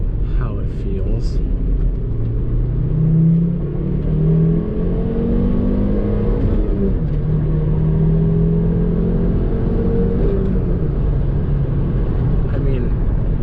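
A Volvo V70R wagon with a six-speed manual accelerates hard up an interstate on-ramp, its engine droning and climbing in pitch through the gears, loud and close from inside the cabin, with a person talking over it.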